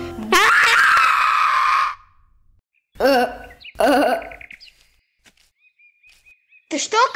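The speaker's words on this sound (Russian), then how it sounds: "Ты что кричишь, сынок?" A child screams loudly for about two seconds, then gives several shorter wailing cries with pauses between them, close to the microphone.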